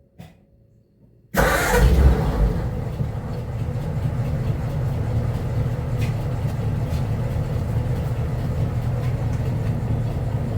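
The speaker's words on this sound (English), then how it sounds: "Okay, so the car is running now" After a second of near silence, a 1937 Ford engine cranks and catches, then settles into a steady, fairly loud running drone that continues to the end.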